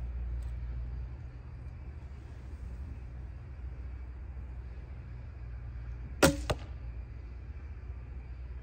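A single arrow leaves a traditional bow outdoors at a 10-yard target, a sharp brief snap and thud set against a quiet low background rumble.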